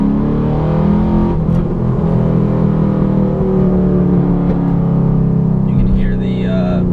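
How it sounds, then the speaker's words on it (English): A 2012 Camaro SS with LS3 V8 and long tube headers revs hard and pulls steadily in second gear, a deep loud rumble throughout with some faint talk mixed in. "with the long tube headers, the car is pretty loud"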